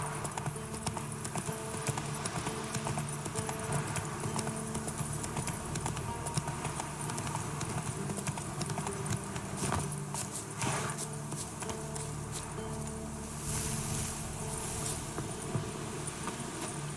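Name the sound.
Roach the horse's hooves clip-clopping, from video game Witcher 3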